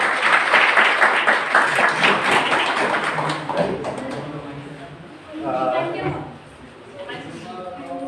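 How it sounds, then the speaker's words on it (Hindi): Audience applause at a college awareness programme in a hall, a dense burst of clapping that tapers off, followed by someone speaking to the crowd. "चलो ताली बजाओ"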